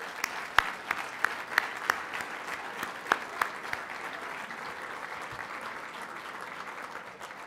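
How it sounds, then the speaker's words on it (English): Around 600 guests at a fundraising founder's dinner applaud in a large hall, a sustained wash of clapping with a few sharp individual claps standing out near the start. "please applaud yourself"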